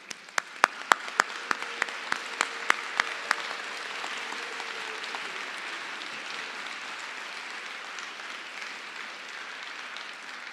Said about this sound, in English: Let's have a round of applause for all of our PhD graduates.